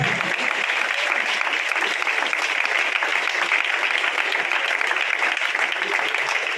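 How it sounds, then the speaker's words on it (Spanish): Loud, steady applause from a crowd at a church service fills the whole stretch, dense clapping without pause and close at hand. "Dale un aplauso al que vive"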